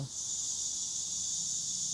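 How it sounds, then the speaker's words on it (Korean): A steady, dense high-pitched buzz of cicadas fills the air continuously, loud and unbroken, with no talking. "매미 소리가 엄청 많이 들리네요."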